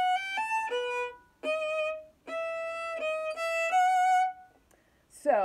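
A bowed string instrument, likely violin, plays the tricky passage of Minuet II: a short phrase of clear sustained notes with brief gaps, solo and close.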